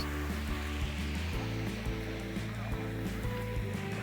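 Garden fountains at the 400-year-old Villa Barbarigo, splashing water as a steady, moderate wash under a low hum, with no speech.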